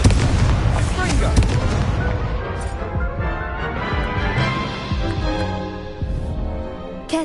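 Fiery blasts from the Confringo spell in a Harry Potter video game, a dense run of booming explosions and crackling bursts that stays loud and busy throughout.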